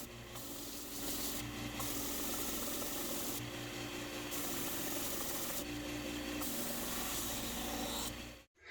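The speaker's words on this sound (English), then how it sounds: "Some sanding." Steady abrasive rasping from sanding a wooden bench peg, continuous and fairly close for most of the stretch, with brief breaks in the hiss and a low machine-like hum underneath, stopping abruptly at the end.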